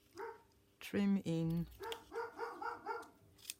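Small dog letting out two loud, close barks in quick succession, with someone talking just before and after.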